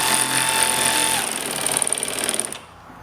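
A power tool rattles fast and close as it tightens the bottom bolt of a hood strut on a 2000 Mustang GT 4.6, running loud for about two and a half seconds before cutting off.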